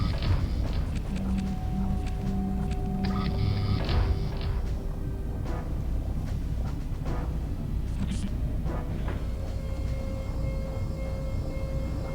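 An elevator in Aliens vs Predator 2: Primal Hunt moves with a steady mechanical rumble, joined by humming tones, clanks and scattered footstep-like knocks, all at moderate loudness.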